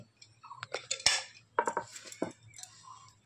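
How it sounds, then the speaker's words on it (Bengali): Potatoes and cabbage go into a pressure cooker in a home kitchen, with close, sparse metallic clinks and knocks of the pot and utensils, irregular and brief with quiet gaps between. "আমি প্রেসারের মধ্যে আলু আর বাঁধাকপি দিয়ে দিয়েছি"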